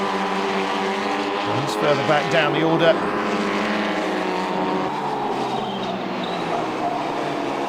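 Junior Formula Ford race cars howl around Brands Hatch, with a rising and falling engine note passing beneath continuous race commentary.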